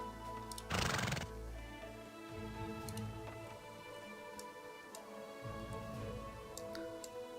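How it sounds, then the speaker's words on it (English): A horse whinnies loudly once in the video game Farthest Frontier, followed by steady ambient game sounds with faint ticking and clip-clop, with no talk. "And now we have horses here."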